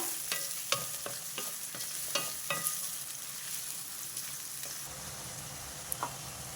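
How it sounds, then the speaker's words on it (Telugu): Chopped onions and green chillies fry in hot oil in a pan, giving a soft continuous sizzle broken by sharp scraping clicks as they are stirred, close and moderately quiet. "ఈ ఉల్లిపాయలు కొంచెం వేగనిస్తా"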